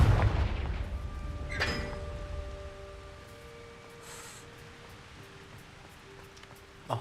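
A Confringo fire spell in Hogwarts Legacy lands as a heavy boom at the start, then a crackling burst and a fading rumble of game effects with a faint ringing tail, with no talking.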